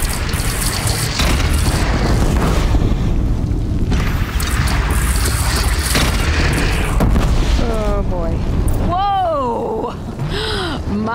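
A bridge collapses under a thunderous explosion in the Horizon Zero Dawn video game, a long roaring rumble with repeated booms, then crashing debris and sharp mechanical whines and cries as the blast fades.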